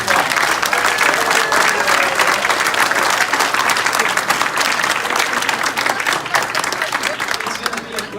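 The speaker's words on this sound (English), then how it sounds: "Let's give these people a round of applause." At an Enagic Kangen Water Christmas party, the audience applauds loudly and continuously, a thick wash of clapping with crowd murmur holding at full strength before easing slightly near the end.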